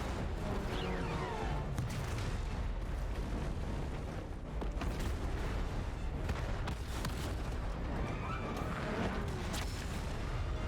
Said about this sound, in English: And just then the bombs went off.